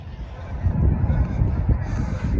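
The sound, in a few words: geese honking at open water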